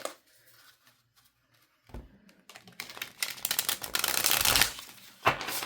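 Card shuffling: a quiet pause, then a rapid flurry of riffling and fluttering cards building to a loud burst, with a final snap.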